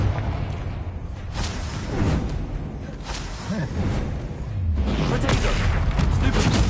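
Confringo fire spells blast repeatedly in the game Hogwarts Legacy, loud booming explosions and whooshes piling up in dense succession amid chaotic combat noise.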